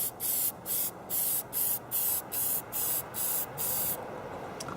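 Hornady One Shot case lube sprayed onto rifle cases for 338 Lapua Magnum reloading: nine short, even hissing bursts in steady rhythm, close and loud, followed by a quieter fading hiss.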